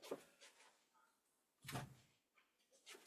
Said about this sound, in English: Okay, I need to close the door too.